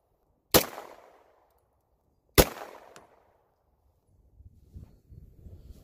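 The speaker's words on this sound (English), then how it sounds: "Okay, we're going to shoot the cinder block." A Beretta 92 pistol firing synthetic bullets at a cinder block outdoors gives two loud, sharp shots about two seconds apart, each ringing briefly, followed by faint shuffling.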